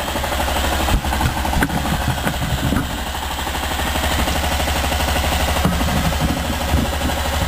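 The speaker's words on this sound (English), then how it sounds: "Tachometer reading approximately 700 RPM." A rhombic drive Stirling engine runs under load at about 700 RPM on roughly 58 psi mean pressure, a steady close mechanical chugging and whirring hum with occasional knocks and no voices.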